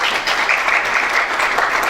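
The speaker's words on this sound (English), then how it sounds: "please welcome our moderator and our speakers with a big round of applause." Steady audience applause at a conference session welcoming the moderator and panel speakers, a continuous dense wash of many hands clapping at even loudness with no pauses.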